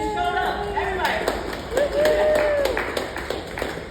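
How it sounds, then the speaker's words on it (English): Scattered clapping from a small motivational-talk audience in Jacksonville, a handful of distinct hand claps spaced irregularly, with voices and whoops mixed in around them. "Give yourself a round of applause because you showed up."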